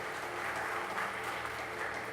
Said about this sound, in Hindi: उद्धार के लिए प्रभु को ताली बजा के प्रभु को महिमा करें।